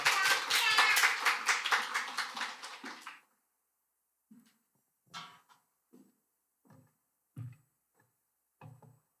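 A church congregation gives a burst of dense, lively applause to welcome the pastor at a Thanksgiving Sunday service. It fades out after about three seconds and is followed by scattered soft taps and knocks in a quiet room.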